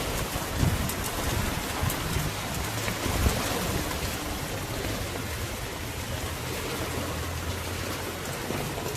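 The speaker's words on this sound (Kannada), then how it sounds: "ಇವತ್ತು ಅಂಗಡಿ ತೆಗೆದ್ರೆ ನೋಡಿ ಜೋರು ಮಳೆ" Heavy rain pouring steadily on surfaces outside a shop, a dense, even hiss of falling water with a few low rumbles early on.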